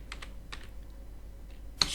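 Several quick keystrokes on a computer keyboard while entering data into accounting software, soft and close, coming in small clusters with short pauses and one sharper key hit near the end.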